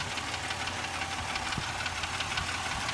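A GM 3100 V6 engine in a 2001 Buick Century Custom idles steadily with a rapid, rattling clatter running through it, a constant mechanical knocking at close range.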